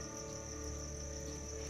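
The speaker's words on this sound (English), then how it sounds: "You can kind of hear the crickets like on a really hot summer day." Steady cricket chirring fills a hot summer day in the Manor Lords village-building game, a continuous high insect drone over a low ambient hum with no talking.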